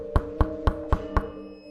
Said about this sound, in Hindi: वो लोग जैसे ही खाना खाने शुरू ही करते हैं कि दरवाजे में एक दस्तक होती है।